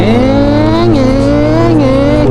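A voice imitates a big bike motorcycle engine, a loud, continuous buzzing drone that rises and dips like revving throttle.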